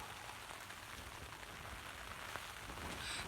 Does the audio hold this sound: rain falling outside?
yes